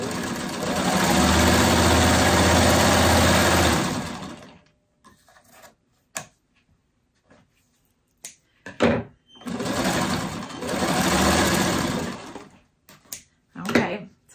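A sewing machine runs in two long, loud bursts as fabric pieces are stitched together, separated by a quiet stretch of brief clicks and handling noises.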